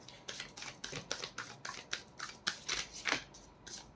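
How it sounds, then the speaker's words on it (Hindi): A deck of tarot cards is riffle-shuffled up close, producing a rapid, rhythmic series of crisp flutters and slaps that repeat steadily for several seconds at modest volume. "This is my last shuffle."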